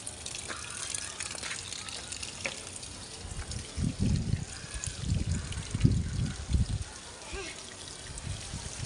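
Water splashes and trickles in uneven gushes as a child waters plants in a rooftop garden, louder in the middle, with faint background noise throughout.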